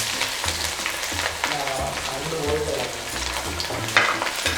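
Chopped ginger and garlic sizzle steadily in hot oil with cardamom and fennel seeds for a Chettinad mutton roast, with a dense crackling hiss and intermittent stirring scrapes throughout.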